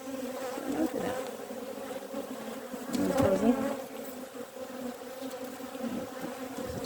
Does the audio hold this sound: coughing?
no